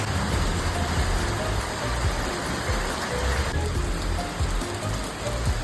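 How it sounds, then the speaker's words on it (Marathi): Steady rain falls throughout, a dense continuous patter on surfaces, fairly loud and even with no talking. "ते म्हणजे पाऊस पडला"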